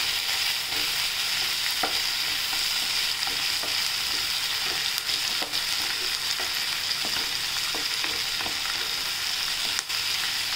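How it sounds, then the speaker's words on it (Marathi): Tomatoes sauté in a pan for garlicky cluster beans, a steady bright hiss of frying with occasional soft stirring taps, continuous and close, without speech. "तर आता आपण याच्यात टोमॅटो टाकूया आणि छान परतून घेऊ"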